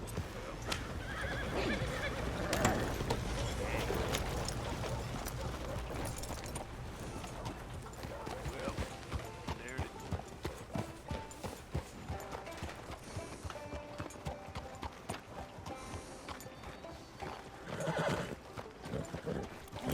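A horse in Red Dead Redemption 2 gallops with rapid clip-clopping hoofbeats and lets out loud whinnies and neighs, with in-game ambience around it.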